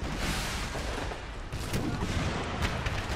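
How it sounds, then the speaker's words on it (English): Napoleon cannons firing solid shot in Empire: Total War, a stream of overlapping booms and cracks over a constant battle roar, with a couple of sharper reports standing out. "You have Napoleons and you're firing solid shots."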